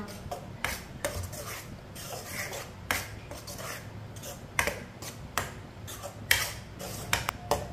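A spoon works through raw mango jam cooking in a pot over medium heat, producing irregular scraping clicks and knocks against the metal, close and fairly quiet.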